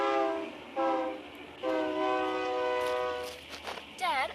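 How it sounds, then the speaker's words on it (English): A freight train at night sounds its horn in several long blasts of differing length, strong steady tones, followed by a wavering horn wail near the end over low rail rumble. "freight train."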